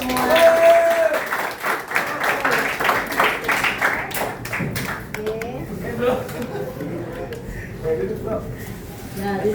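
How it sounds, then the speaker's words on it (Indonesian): Students in an Indonesian school classroom applaud after singing the national anthem, a burst of many hands clapping that tapers off, with students' voices and chatter mixed in and continuing as the clapping fades. "Tepuk tangan untuk kalian semua."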